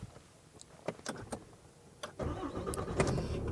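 Engine of a 2022 Ram truck cranks and catches, settling into a low idle rumble after a few scattered clicks and knocks; close and moderately loud with no talking.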